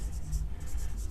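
Pen or marker writing on a board during a chemistry lesson on equivalent weight of acids, a soft continuous scratching stroke close by over a low room hum, lasting about a second with no talk.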